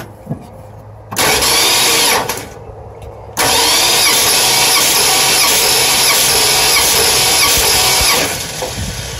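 A 1964 Plymouth Fury 340 with a no-compression cylinder cranks over during a compression test: a short burst of starter cranking, a pause, then a long, loud steady crank with a high squeal that runs several seconds before cutting out.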